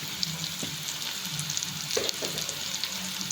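A pan sizzles steadily close up as the food sautés with coriander and turmeric while vadam palam thokku is cooked, with a few light stirring clinks.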